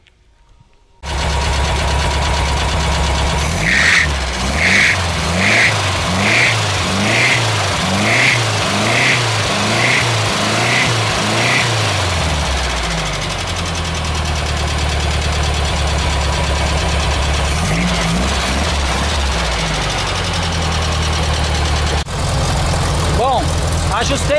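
A Volkswagen Fusca with a freshly rebuilt engine runs loud and close, starting with a revving idle that rises and falls before settling into a steady drone as the car drives off.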